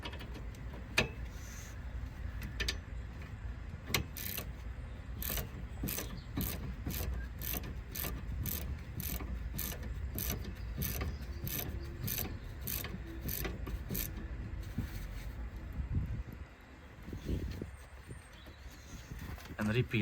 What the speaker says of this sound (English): in order to tighten this bolt all the way down, you need to counter hold it on this part